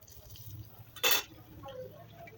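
A spoon stirs fried bitter gourd with black masala in a pan, one brief, bright scraping clatter rising over a quiet, low background.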